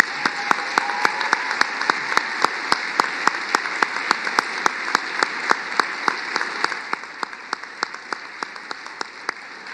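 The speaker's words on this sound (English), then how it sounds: "Let's give another round of applause to all of our graduates," Steady applause for graduates fills a commencement ceremony hall at Northern State University, a broad sustained wash of many hands clapping, moderately loud and even, easing slightly toward the end with no voices over it.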